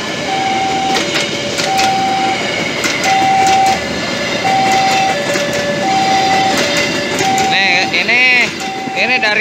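A train rolls past on the railway out of Bandung at night, with a steady rumble and repeated clicking as a signal bell rings in a regular rhythm, while someone talks over the noise.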